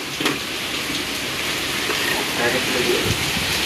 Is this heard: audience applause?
no